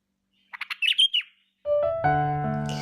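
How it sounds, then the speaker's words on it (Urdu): A bulbul sings a run of bright, quick chirping notes, then a sustained tonal warble, clear and close with no talk. "ایک بلبل رہتی تھی جو اپنی سریلی آواز میں گنگنایا کرتی تھی"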